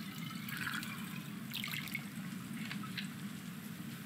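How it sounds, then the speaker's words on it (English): Quiet gurgle and splash of water filling a flask in a video game, soft and intermittent, with low background hum and brief bubbling bursts. "Fill up my flask with this water."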